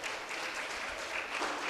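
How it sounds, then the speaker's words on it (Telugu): Steady, dense applause from a youth retreat audience after a correct answer in a group Bible quiz on the Gospel of John, filling the short stretch evenly without voices. "Claps claps."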